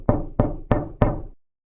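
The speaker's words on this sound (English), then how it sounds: "Assuming it was the wind, she ignored it, until the knocking came again." Four firm knocks land on a door in an even, deliberate rhythm, each a sharp thud with a short ringing tail, close and alone before falling silent, used as a horror-story sound effect.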